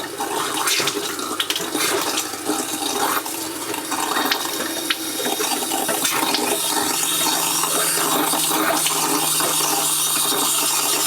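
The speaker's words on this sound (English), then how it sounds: "Let's go ahead and turn some hot water on." Hot water running from a tap inside a Geo Pro 19FBS travel trailer, a loud, steady rushing stream that fills the whole clip with splashing into the basin.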